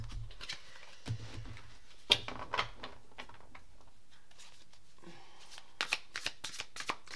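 An oversized tarot deck is shuffled up close, with soft riffling bursts and sharp card snaps scattered irregularly over quiet room tone.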